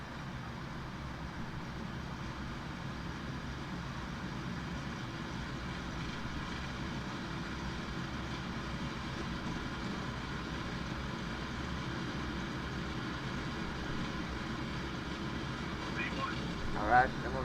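A Boeing 777's jet engines hold a steady, loud roar at takeoff thrust, heard from inside the cockpit as a broad continuous rumble, with brief faint voices near the end.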